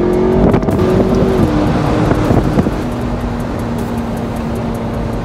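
A loud car engine drones steadily nearby while cruising to a cars and coffee event, with a sustained tone and wind buffeting the microphone.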